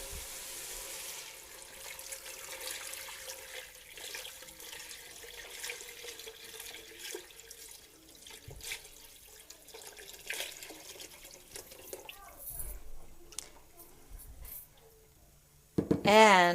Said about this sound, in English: And now I'm going to add water.